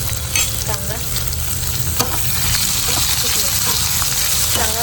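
Slightly burnt garlic fries in a pan, a loud continuous sizzle with scraping stirs and clinks throughout, and a voice talks over it.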